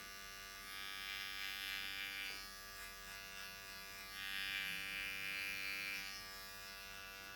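Electric hair clippers trim neck hair during a medium-length haircut, a constant close buzzing drone that swells slightly as the blades move along the neckline.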